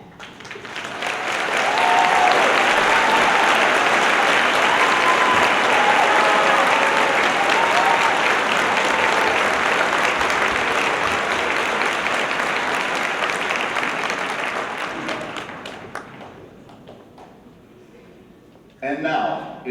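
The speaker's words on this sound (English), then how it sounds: "Would all students with honor stoles please stand and receive our applause?" A large crowd claps steadily at a high school graduation ceremony as honor-stole graduates stand, loud and sustained before fading out near the end.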